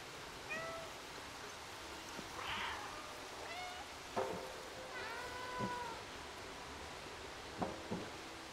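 A cat meows several times in the Dumpster Diving Simulator video game, short, fairly quiet mews spread over a steady soft noise bed with a few small clicks, no voices.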